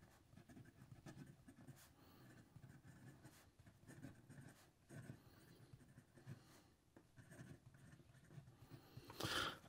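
A fountain pen with a stiff Ensso Italia Ultem nib scratches across paper in a near, faint, continuous stream of small strokes with brief pauses, and a louder scrape comes near the end.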